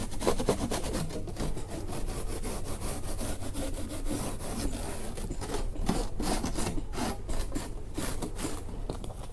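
A fiberglass speaker deck surface is scuffed by hand before painting, giving a quiet, continuous rubbing and scraping with repeated back-and-forth strokes close by.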